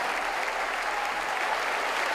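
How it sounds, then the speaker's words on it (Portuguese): Church congregation applauding at a sermon, steady dense clapping from many hands throughout, loud and continuous with no talk over it. "vamos aplaudir mais"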